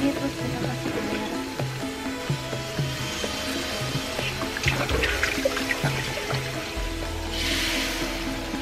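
Water is poured onto melting brown palm sugar for tempeh caramel, a soft close splash and trickle that swells near the end over quiet kitchen clatter.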